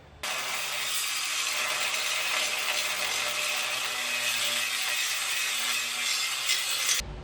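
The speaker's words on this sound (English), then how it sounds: "I had some tips not to put too much pressure on the grinder so I don't risk the blade breaking" An angle grinder cuts metal while a hidden winch kit is fitted to a Ford Bronco, a steady, fairly quiet high-pitched abrasive whine running unbroken for about seven seconds before stopping abruptly.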